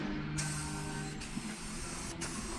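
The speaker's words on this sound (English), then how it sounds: "Shake it up, spray it down." A spray can sprays white paint onto a new hood, giving a continuous close, loud hiss broken by two brief pauses between passes.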